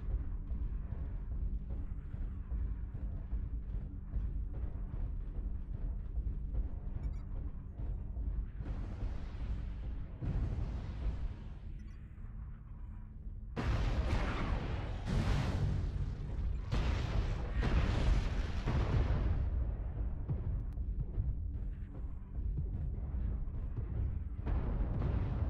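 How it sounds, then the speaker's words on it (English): MechWarrior Online artillery strike, a steady low rumble of impacts that swells into a louder run of heavy booming explosions partway through and keeps going to the end, with no talk over it. "Artillery strike online."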